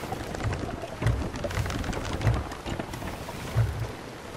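Sailing ship gliding across open sea in Sea of Thieves: a steady wash of water and wind with soft, low swells rolling in at irregular intervals, a continuous ambience with no voices.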